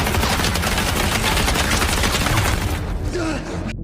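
Gunfire in a film shootout, dense rapid bursts of shots layered into a loud continuous barrage that thins out near the end before cutting off abruptly.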